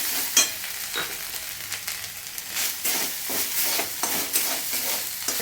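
Chilli paste and turmeric fry in a pan with a steady close sizzle, punctuated by rhythmic stirring strokes that scrape the pan every second or so.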